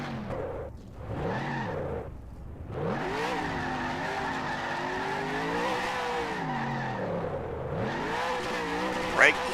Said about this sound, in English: the signature reverse burnouts by Joe DeSpirito here